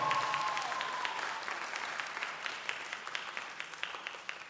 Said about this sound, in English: Let's give our young folks a round of applause again, please.